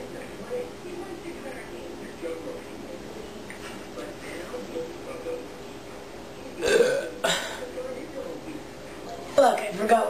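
Burps during a friendly burping contest between two people, with a couple of loud, close belches standing out late in the clip over low room noise, along with a few softer mouth sounds and quiet talk.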